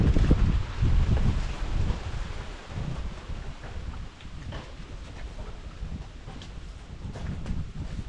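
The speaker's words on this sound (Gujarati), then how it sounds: "કેવા પવન છે જોઈ લે" Strong wind gusts across an open papaya farm, roaring and buffeting the microphone. The low rumble is loud and continuous and swells and eases throughout, with no clear voices.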